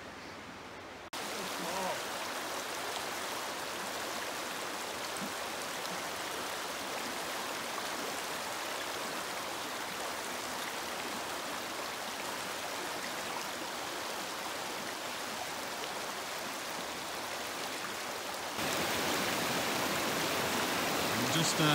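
Stream water rushes and babbles steadily near Clatskanie Falls in a small river holding juvenile salmon, a broad continuous wash close by that swells slightly louder near the end, with no talking.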